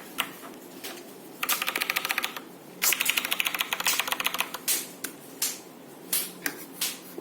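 Keys clack on a Gamdias Hermes Light keyboard, quick close bursts of rapid typing with brief pauses, then slower single key presses spaced apart, no voices.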